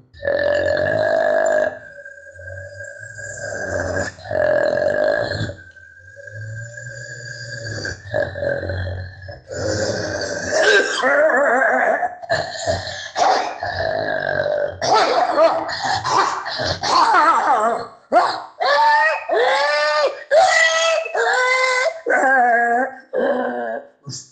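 A man on stage at a cultural festival performance uses his voice to imitate two dogs fighting, with loud growls, barks, yelps and whimpers that grow faster and more frantic toward the end.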